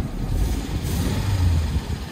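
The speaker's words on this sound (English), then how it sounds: "I don't like how that motor sounds." A car bought at auction idles just after starting, a low, steady engine rumble heard close, running rough and uneven throughout with no talk.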